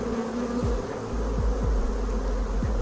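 Honey bees from an opened hive hum in a continuous close drone, with individual bees passing near in brief swells, and no voices are heard.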